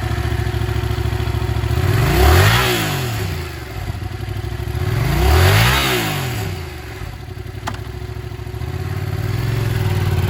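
A used 2018 Yamaha MT-07 streetfighter with a twin-cylinder engine and ABS idles loudly nearby, rising through two sharp throttle blips that fall back to a throbbing, steady idle.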